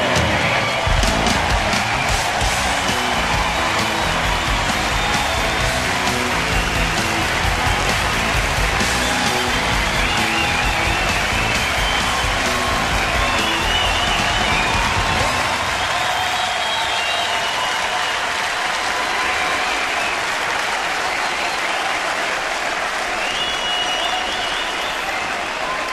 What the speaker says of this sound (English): Omar Vizquel, and a nice acknowledgement from the crowd here